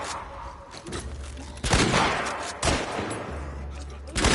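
Gunfire in the video game The Last of Us Part II, with three loud, sharp shots spaced about a second apart over a low game-ambience rumble and no speech.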